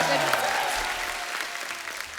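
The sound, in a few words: studio audience applause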